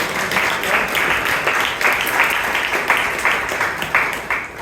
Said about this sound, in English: Can we have a huge round of applause for